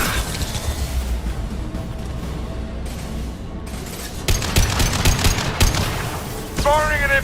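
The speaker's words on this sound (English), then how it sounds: "Firing an impact shot!" Impact-shot gunfire in the Mass Effect video game: dense, crackling bursts of rapid shots with sharp shattering impacts, loud and continuous, with game voices faintly underneath.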